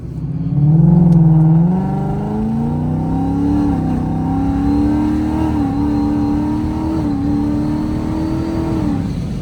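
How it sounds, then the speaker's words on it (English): A 2020 Ford Mustang GT with an XForce 3-inch catback exhaust, valves open, rumbles loudly at idle then revs, the deep engine note rising and holding steady, close by with no talking. "we do have some exhaust note finally in the very back"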